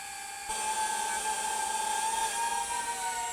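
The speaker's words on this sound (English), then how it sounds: "And there's your drone going away." A small drone whines with a high, steady motor pitch after takeoff, starting abruptly then holding a continuous buzz that wavers slightly as it flies off, with no voices.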